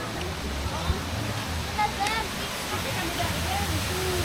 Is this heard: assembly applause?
no